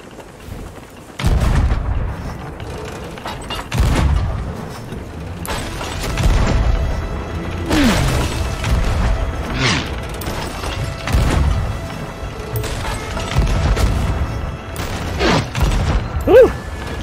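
Ship cannons fire in the video game Sea of Thieves in heavy, booming shots spaced a few seconds apart, each one rumbling off. Between the blasts there are creaks and a faint whistling.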